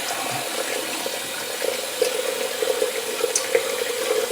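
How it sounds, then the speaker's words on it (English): Water runs from a tap into a bathroom sink with the stopper up, a steady close rush that thickens slightly as the basin fills, with no voices. "We'll get some water in the sink."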